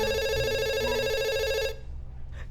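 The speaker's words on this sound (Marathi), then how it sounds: "घ्या सर घ्या तो फोन." A telephone rings with a steady electronic trill, close and clear, then cuts off abruptly after under two seconds and leaves quiet room tone.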